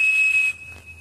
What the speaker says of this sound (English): When you blow the whistle into the phone